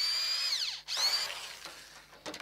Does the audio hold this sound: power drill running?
yes